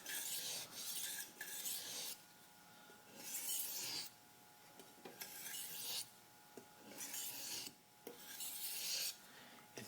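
A power sharpener grinds a restaurant kitchen knife edge with a light touch from heel to tip. Steady, close rasping strokes of about a second or two each repeat in a regular rhythm, with short gaps between passes.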